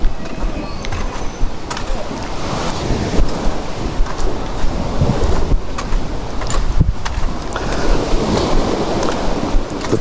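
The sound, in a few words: sea waves near the house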